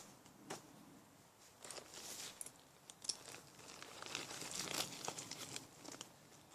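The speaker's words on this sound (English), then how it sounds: "another 9-liter C-line dry bag" A 9-liter Sea Line dry bag being handled: steady crinkling and rustling of stiff waterproof fabric, close and moderately quiet, with a few sharper crackles and no talking.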